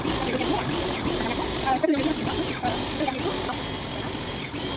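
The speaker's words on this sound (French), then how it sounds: "Là, je vais continuer à mixer ça." A blender mixes a homemade digestion drink, giving a steady, close whirring drone that runs the whole time with a slight rattly, mechanical edge and brief dips in intensity.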